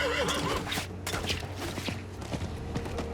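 A horse whinnies amid busy game-like background noise in Diablo 4, with scattered thumps and hoof-like clatter throughout.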